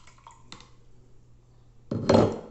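Water, coloured purple, is poured from one container into another in a classroom: a quiet lull, then one short, close splashing pour near the end.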